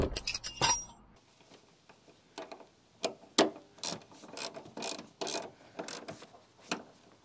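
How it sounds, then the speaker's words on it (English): A ratchet tightens a lock nut on a Kubota B2601 tractor, producing a series of close, uneven clicking and rasping strokes with short pauses between them after a brief metallic clatter at the start. "Now I just have to tighten that lock nut on the bottom to make sure things don't come loose"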